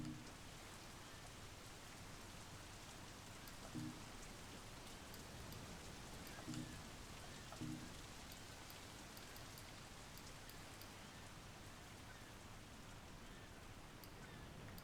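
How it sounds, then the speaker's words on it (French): Steady, faint rain from the video game Sleeping Dogs Definitive Edition patters continuously, with a few soft low tones chiming now and then in the background. "Ok, on peut faire pleuvoir le jeu."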